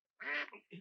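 A duck in a Western film setting gives one loud, close, rasping quack followed by a shorter, softer second call, with no talk over it.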